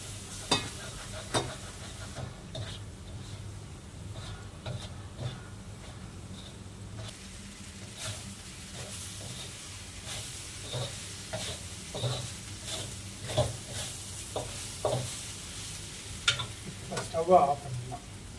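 Brinjal and potato poriyal stir-frying in a pan, a steady sizzle broken by repeated scraping and stirring strokes of a spoon against the pan, growing busier toward the end.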